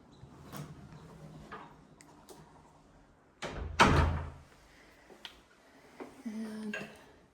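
An interior door in a house in Sugarloaf, Big Bear, is opened and shut, giving a sharp loud knock and thump midway, with softer handling clicks and footsteps around it in a quiet room.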